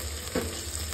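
Spice tempering frying in hot oil for a leftover-rice dish, giving a steady close sizzle through the brief moment with no voices.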